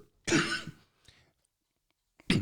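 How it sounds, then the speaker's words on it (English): Two sharp coughs, close and loud, separated by a second or so of near silence. "Sorry, I have to cough sometimes"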